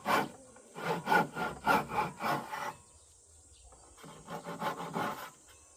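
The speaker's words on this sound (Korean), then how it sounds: "나중에는 이제 사포로 잘 가다듬어 주면 됩니다." Wood for a Moxon vise is rubbed with sandpaper in quick, rhythmic back-and-forth strokes, a burst of about eight passes, a short pause, then another run of softer strokes, close and fairly quiet.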